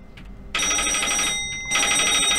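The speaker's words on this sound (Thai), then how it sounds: "โอ้ยออกไปรับโทรศัพท์แป๊บ" Telephone ringing in the Office Paradox horror game, two loud electronic bursts of trilling ring separated by a short gap, with no talk over it.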